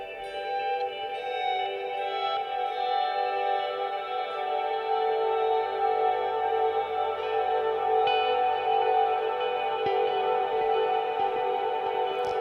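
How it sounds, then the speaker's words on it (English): Electric guitar run through an echo effect pedal, a sustained chord with repeating, slightly distorted delay trails washing over one another, loud and continuous without talk. "Sometimes the echo gets all distorted, and that's kind of the point."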